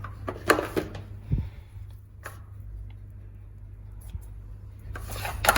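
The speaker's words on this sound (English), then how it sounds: "So I am going to cut them with scissors." Scissors snip through mulberry stalks at close range: a few short, sharp cuts with small rubbing sounds between them and quiet pauses, heard on their own with no talk.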